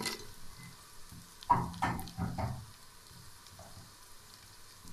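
Coconut, peanuts and raisins dry-roast in a pan for jaggery rice, a soft background sizzle broken by a short cluster of scraping stirs near the middle, quiet and close, with no voices.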